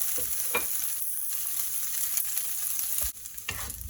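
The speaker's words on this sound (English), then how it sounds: "we're going to add the tofu. Give that a good colour." Tofu frying in a hot pan for Pad Thai, a steady close sizzle with a few scraping stirs and clinks, continuous throughout with no talking.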